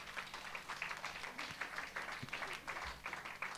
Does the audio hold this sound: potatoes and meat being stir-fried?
no